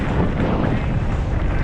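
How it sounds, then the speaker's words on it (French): Loud, constant wind buffeting the microphone during a mountain bike race, a dense roaring rush with no pauses and no voices. "Trop de vent"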